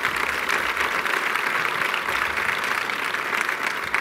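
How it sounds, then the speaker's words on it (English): A conference audience applauds its panelists at the end of a session on analytics, a dense, steady wash of clapping that holds at an even level from start to finish with no voices. "Please give a round of applause to our panelists."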